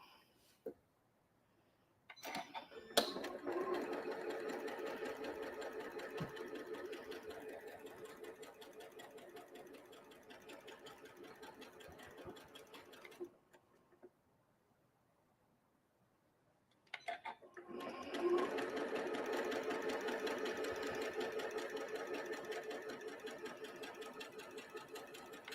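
A sewing machine stitches a pinwheel star quilt block in two steady, continuous runs separated by a short pause, its motor hum and rapid needle ticking close and clear.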